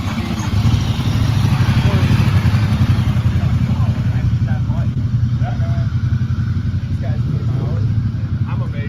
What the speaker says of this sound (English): This is all the bikes get. We're about to take off. Tell me if you can hear it.